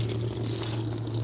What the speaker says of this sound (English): as it fills up, this is the waterfalls